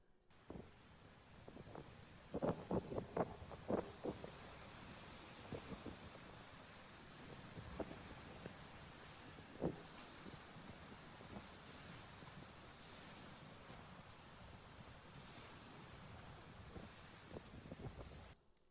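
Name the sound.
wind and ocean waves, with rain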